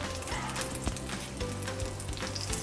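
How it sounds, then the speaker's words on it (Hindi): Oil and butter sizzle in a nonstick pan on the stove, a close, steady crackling hiss with small irregular pops and faint clinks throughout. "अब मैं इसमें 2 टेबल स्पून ऑयल ऐड कर रही हूँ, 2 टेबल स्पून बटर ऐड कर रही हूँ।"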